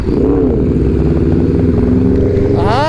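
A Yamaha R1 sport motorcycle engine revving loud and close on a group ride, a steady throaty roar that climbs in pitch near the end, with no talking over it.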